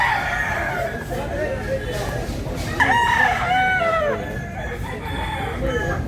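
A rooster crows loudly and close by at a cock market in Consolacion, Cebu, one long rising call at mid-clip standing over a crowded background with voices and other fowl.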